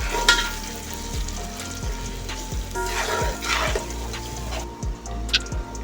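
Around two kilos of beef go into frying ginger garlic paste and garam masala for haleem, giving a loud, close sizzle with repeated scraping stirs and sloshing, wet bursts.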